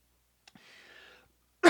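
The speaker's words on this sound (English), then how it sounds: "it's not a dry cough." A person gives a short, moist cough close to the microphone, a breathy rasp trailing after it, then a sudden loud burst at the very end.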